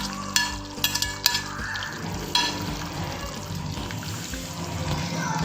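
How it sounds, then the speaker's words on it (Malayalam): Fried paneer tipped into a pan of masala gravy for a dhaba-style dish, a few sharp clinks of a spoon against the pan, then a steady wet sizzle and stirring that builds toward the end. "നമുക്കിതിലേക്ക് നമ്മൾ വറുത്ത് വെച്ചിരിക്കുന്ന പനീർ കൂടെ ചേർത്ത് കൊടുക്കാം."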